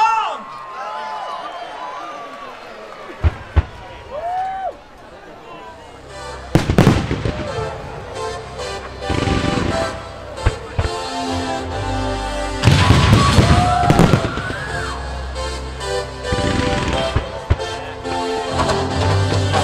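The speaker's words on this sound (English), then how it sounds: "ready for your second fireworks? Give it up for Gala Fireworks." A gala fireworks display with bursts and crackling booms coming in clusters, loud and near, mixed with crowd noise, whistles and a voice talking over the opening moments.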